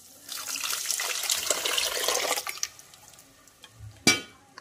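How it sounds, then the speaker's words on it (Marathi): Water is poured into cooked dal in a pot, a close splashing gush for about two seconds that trails off, followed by a single sharp clink. "त्यामध्ये घालायचं आहे गरजेनुसार पाणी"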